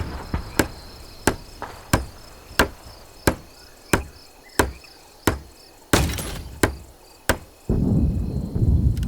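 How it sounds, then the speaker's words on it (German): A hammer builds a barricade in Hell Let Loose Vietnam, with about a dozen sharp, evenly spaced strikes ringing out alone at a steady pace, followed by a low rumble at the end. "Use the hammer in your loadout to finish constructing it."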